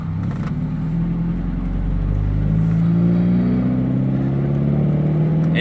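A Mazda Miata MX5 with a race clutch and lightened flywheel pulls away, its engine note rising smoothly as it accelerates. The sound is close, loud and steady, with no voices.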